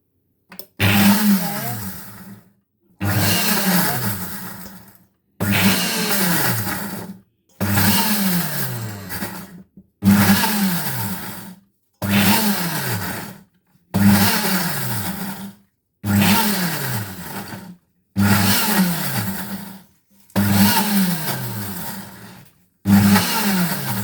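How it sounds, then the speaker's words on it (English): A kitchen blender purees parsley and peppers into green Caribbean seasoning, running in about ten loud bursts of two seconds each with short silent gaps between, the motor pitch wavering as the thick mixture churns. "I'm still blending"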